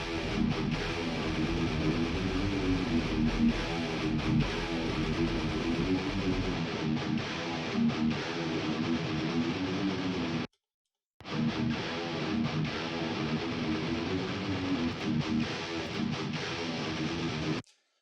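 Soloed metal guitar tracks from a MESA amp, run through a cab IR loader, chugging in a continuous dense, distorted stream with one brief dropout near the end.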